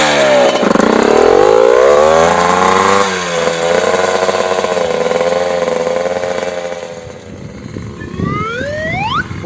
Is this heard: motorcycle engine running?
yes